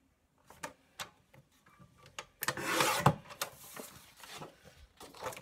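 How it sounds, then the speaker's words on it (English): Scrapbook paper being trimmed down to 9 inches with a cutter, giving a run of dry scraping and rasping strokes, a few light taps first, then a louder sustained slicing rasp partway through, close and alone. "I'm just gonna cut off 3 inches here."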